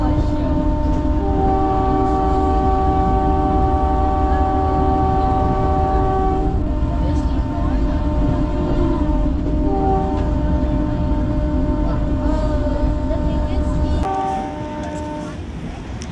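Vande Bharat Express (Train 18) running between Varanasi and Prayagraj, a steady loud rumble from onboard with sustained horn-like tones over the first half and a quieter stretch near the end.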